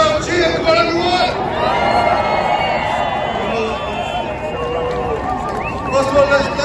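A large outdoor crowd at a pro-Palestinian protest in Leeds cheers and roars in a continuous dense wash of voices, with shouts and whoops rising above the steady noise throughout.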